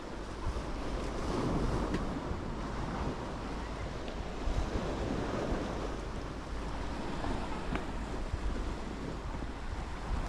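Sea waves wash onto the shore at Turnalı in Muğla, a soft continuous surf with gusts of wind buffeting the microphone. The sound is quiet and fairly distant, with no voices.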